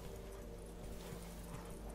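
A horse's hooves clop rhythmically in The Witcher 3, a faint steady patter of footfalls under low background sound.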